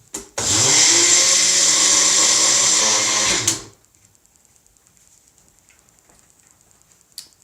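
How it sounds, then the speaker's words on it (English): A Magic Bullet blender with its grinder attachment whirs loudly and steadily for about three seconds as it grinds old-fashioned oats into flour, then cuts off abruptly, leaving near silence with a faint tick at the end. "I have the magic bullet, but I will use the grinder part on it."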